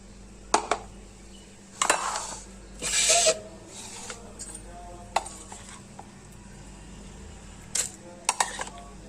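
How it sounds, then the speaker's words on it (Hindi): Mango pieces dropped into a container for a mango drink, a handful of scattered clatters and soft knocks of fruit and utensils against the vessel, with quiet room noise between the bursts. "सारे आम इसके अंदर शामिल कर दूँगी।"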